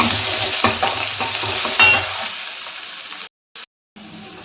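Chopped onion dropped into hot oil with mustard seeds and turmeric, a loud sizzle with stirring knocks of a spoon against the pan that fades toward the end before cutting out in short gaps.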